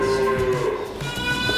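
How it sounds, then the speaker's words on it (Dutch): Agitated cattle mooing loudly and repeatedly in a barn or farmyard, the calls overlapping in a continuous, restless chorus. "De koeien slaan hier op hol."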